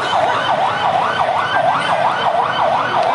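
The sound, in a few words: fire engine siren at a market fire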